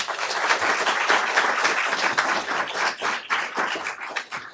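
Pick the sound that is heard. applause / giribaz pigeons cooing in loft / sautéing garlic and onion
applause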